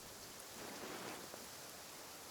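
Heavy rain in Genshin Impact forms a constant, dense hiss of falling water, steady and even throughout with no voices.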